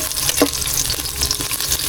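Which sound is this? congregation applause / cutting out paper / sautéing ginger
sautéing ginger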